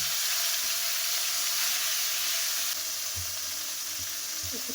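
Tomato-ginger paste with bay leaves and dried red chillies fries in hot oil, a loud continuous sizzle and hiss close by, with a few soft thuds of stirring toward the end.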